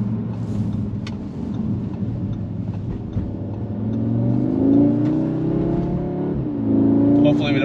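A 2022 Audi S3 drives toward the Colorado mountains west of Denver, its engine humming steadily and then climbing in pitch through two rising pulls of acceleration, heard close up under a voice that talks throughout.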